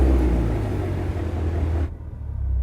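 A 2023 Cadillac Escalade V engine gives a deep, loud, close rumble that cuts off abruptly near the end, leaving only a lower residual drone.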